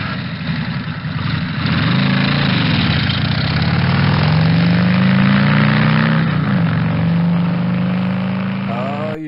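A motorcycle engine idles loudly and close, a deep steady throbbing rumble that rises slightly in pitch midway, then falls near the end, with no one speaking over it.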